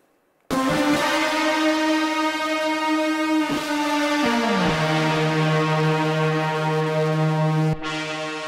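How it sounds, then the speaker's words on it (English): Layered bass guitars topped with a brass-like sound built from guitars, in a sustained, wide tone with long held notes that shift pitch partway through, playing alone. "sound design brass instrument that is made out of guitars"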